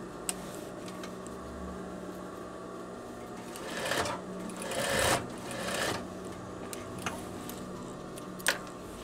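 A sewing machine runs a seam on a veterinary coverall, a fast steady mechanical whir with clicking, surging louder in the middle and easing off, close and alone.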